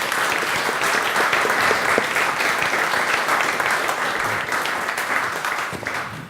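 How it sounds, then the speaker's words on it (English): A live audience applauds steadily to welcome a guest at a morning event about a play, with dense, sustained clapping that stays loud throughout and tapers only slightly at the end. "so a very big round of applause for Gwen"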